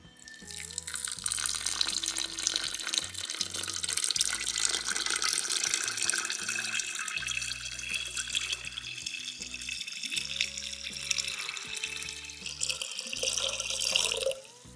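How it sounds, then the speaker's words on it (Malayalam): Water pours steadily into a jar for homemade carrot wine, a continuous splashing and trickling stream that lasts throughout, with background music underneath. "അപ്പോൾ എന്തായാലും നമുക്കിതിലേക്ക് ഇനി വെള്ളം ഒഴിച്ചു കൊടുക്കാം"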